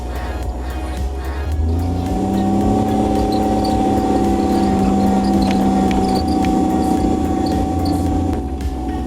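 A V12 twin-turbo BJ40 LandCruiser climbs a dirt track, its engine holding a steady, loud, close drone with a low rumble that swells slightly after the first couple of seconds and stays constant throughout.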